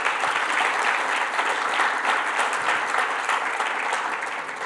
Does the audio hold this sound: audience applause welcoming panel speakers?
yes